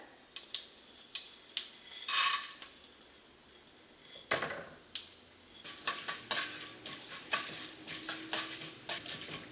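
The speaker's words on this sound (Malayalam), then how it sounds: "നമുക്കിതിലേക്ക് കടലപ്പരിപ്പ് ഇട്ടിട്ടൊന്ന് വറുക്കാം." Chana dal crackles as it fries in oil, with repeated metallic scrapes and taps of a spoon against the pan, close and uneven in rhythm.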